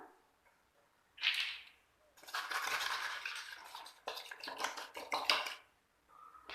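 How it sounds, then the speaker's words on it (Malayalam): Eggs beaten with sugar and crushed cardamom in a bowl, a brief sharp clink and then several seconds of dense, busy whisking and scraping that pauses once and resumes, close and fairly loud. "കാൽ കപ്പ് പഞ്ചസാര കൂടി ചേർത്ത് നന്നായിട്ട് അടിച്ചെടുക്കണം"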